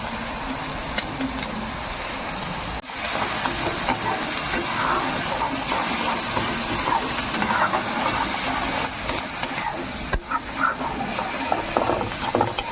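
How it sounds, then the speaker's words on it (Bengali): A steady, broad sizzle of onion and garlic frying in a hot pan, continuous and fairly loud, with occasional small crackles. "পেঁয়াজ আর রসুনটা ভাজা হচ্ছে"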